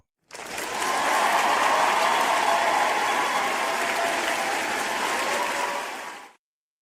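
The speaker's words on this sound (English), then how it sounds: "Let me give a round of applause for my sis, Sunshine Queen." A dense burst of clapping rises sharply, holds loud and even for about six seconds, then cuts off abruptly, greeting a guest during a live talk show.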